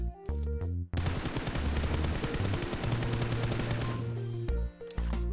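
Automatic gunfire in the mobile shooter PUBG Mobile: one loud, rapid, unbroken burst of shots lasting several seconds, framed by short tonal game sounds just before and after. No voice.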